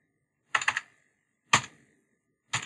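A computer keyboard is typed on in three short, separate bursts of clicky keystrokes, each about a second apart, close and fairly quiet, with no talking.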